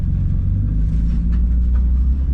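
A BMW E36 on a test drive after a rewelded differential, heard as a steady loud engine and road rumble from inside the car, continuous with no talk.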